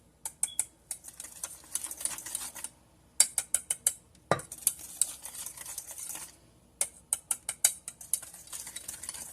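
A whisk beats custard mixture in a pot in quick, repeated clicking bursts with short pauses between them, close and fairly crisp, with no one speaking.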